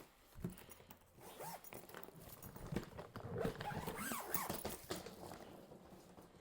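A suitcase zipper is drawn open in a run of quick rasping pulls and ticks, close and fairly quiet, with small handling knocks mixed in.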